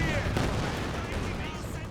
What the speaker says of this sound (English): Sniper right the way forwards, picking off those Pathfinders